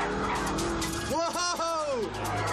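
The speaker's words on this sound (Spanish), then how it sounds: "Una patinada a 177 kilómetros." Noble M600 sports car skidding at 177 km/h: a loud engine roar with a sharp, wavering tire squeal rising for about a second, with a voice speaking over it.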